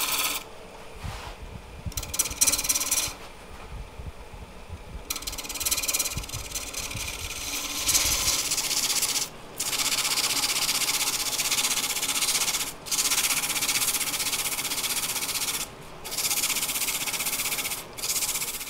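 Hand sanding of a turned wood and Alumilite resin accent light, a steady gritty rasping with short passes and brief pauses, close and fairly loud, alone without talk.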